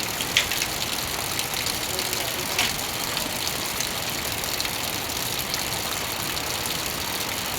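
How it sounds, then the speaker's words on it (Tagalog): Steady, dense hiss of heavy rain pouring down, constant and fairly loud, with a low rumble underneath and no clear voices. "Lakas ng ulan."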